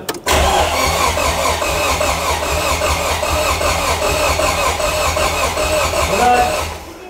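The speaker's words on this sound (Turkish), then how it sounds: "Basıyorum bir marşı" A car engine runs steadily and loud up close, a deep low drone with mechanical clatter over it, starting right after a brief pause and easing off near the end. The engine is being worked on during a power upgrade from 170 to 350 horsepower.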